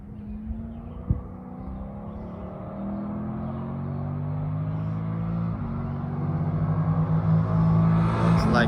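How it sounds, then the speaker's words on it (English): Race cars run down the front straight at a track day, their engine drones rising and layering as several approach and pass at moderate distance, with a brief thump early on and no voices. "Cars are coming down."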